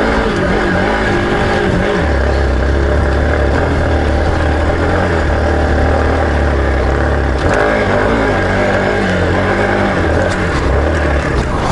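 Hero XPulse 200 4V motorcycle spinning its wheel off-road produces a loud, continuous engine drone with a low throbbing note that rises and falls as the throttle is worked, with no voices.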